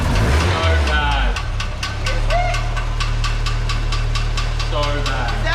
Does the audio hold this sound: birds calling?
no